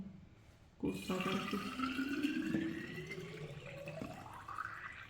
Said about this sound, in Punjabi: ਆਪਾਂ ਹੁਣ ਬੋਤਲ 'ਚ ਪਾ ਲਈਏ ਪਾਣੀ